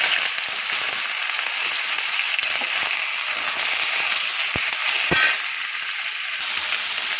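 Vegetables dropped into hot oil tempered with black cumin, sizzling in a steady loud crackle with a few sharp pops near the end.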